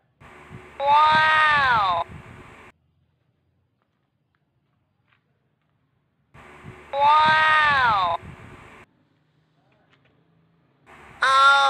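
Two long, loud meows from a cat nearby, separated by several seconds of silence, with a third beginning at the very end.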